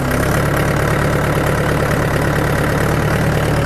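A tractor's engine runs steadily as it drives out, a loud, continuous low rumble with an even throb that holds for the whole stretch, with no voices over it.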